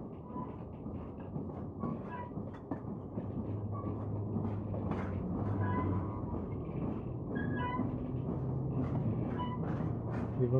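Train running in the video game Syberia 2, a steady rumbling ride with rhythmic clatter and occasional squeals, continuous and moderately loud throughout.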